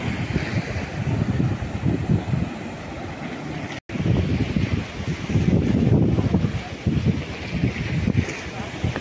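Steady roar of surf breaking along the shore at Devgad on the Konkan coast, with wind buffeting the microphone and a brief dropout partway through.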